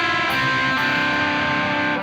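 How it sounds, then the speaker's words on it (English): Keyboard played through a distortion effect, a continuous buzzy sustained chord filling the whole moment, loud and close with no talk. "Put a little bit of distortion on here."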